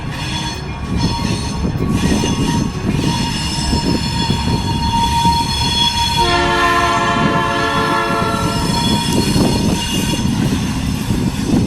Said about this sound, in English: It's all about this train running on the Oak Point Subdivision.